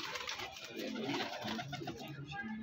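Pigeons at a loft keep up a steady low cooing close by, a continuous murmur of soft calls with faint talk mixed underneath.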